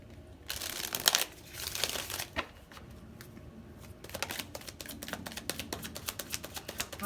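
Tarot cards are shuffled close up in quick riffling bursts, with crisp papery rattles, a pause, and then a longer run of rapid flicking card slaps.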